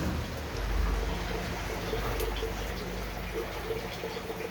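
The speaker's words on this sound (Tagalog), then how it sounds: "Nakaupo ako dito habang nagpapatigil ng ulan." Steady rain falls outdoors at a work site, an even soft hiss of drops holding throughout with no talk.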